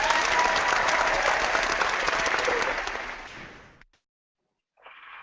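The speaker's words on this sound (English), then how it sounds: "How about some applause, Mark?" Thick, continuous crowd applause rolls on for several seconds, tapers off and cuts to silence, followed by a short burst of faint hiss.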